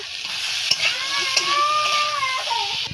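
Pointed gourd and potato pieces with salt and turmeric get stirred in a frying pan, giving a steady scraping stir over a bright, continuous sizzle with a few thin squeaky tones.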